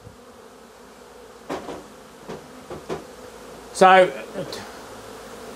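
Honey bee swarm running into a box at a beekeeping field day, a steady low buzz of insects under a few scattered knocks and brief speech.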